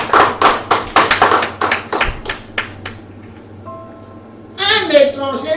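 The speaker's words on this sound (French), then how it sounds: "Franchement, acclame pour toi-même déjà." A church congregation at a sermon claps in a quick, rhythmic burst of hand claps for a few seconds. The clapping fades, and a voice then speaks loudly up close.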